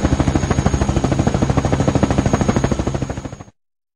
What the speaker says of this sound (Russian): Правильно. Вертолет.